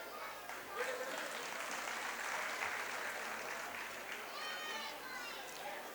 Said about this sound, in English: Let us cheer them.